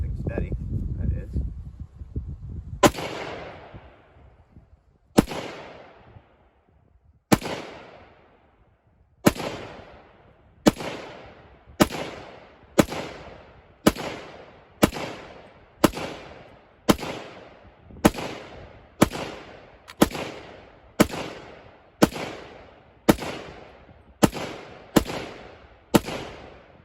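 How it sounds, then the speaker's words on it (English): A 300 Blackout rifle fires a magazine outdoors at a range: about twenty sharp, loud reports, widely spaced at first and then coming faster at a fairly steady pace, each with a short ringing decay. The clip opens with wind or handling rustle. "One more mag through the 300 Blackout."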